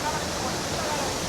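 A waterfall in Sri Lanka where people bathe, heard as a steady broadband roar that holds at an even level throughout.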